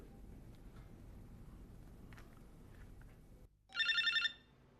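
A short electronic landline phone ring sounds near the end, a quick bright trill that follows a quiet stretch of low background hum in an office.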